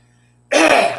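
After a moment of quiet, a single short, rough throat clearing sounds close and loud.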